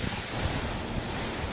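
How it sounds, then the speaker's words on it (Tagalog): Loud, roaring typhoon wind buffets the microphone in a continuous rush in Cagayan, Philippines, with low gusty rumbles and no voices. "nakabibinging hangin ang humampas sa iba't ibang bahagi ng Cagayan"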